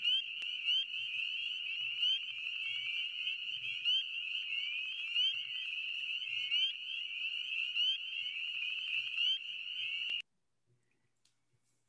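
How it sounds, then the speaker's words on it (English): Northern spring peeper frogs calling in a dense, loud chorus of high, shrill peeps, overlapping continuously for about ten seconds before cutting off to near silence. "So here's their sound. I'm sure you've heard it before."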